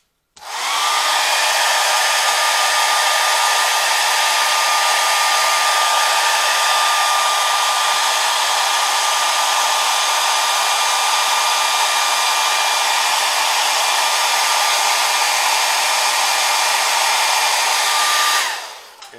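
A hair dryer blows on wet paint in one loud, steady roar that lasts nearly twenty seconds before it cuts off, with no voices.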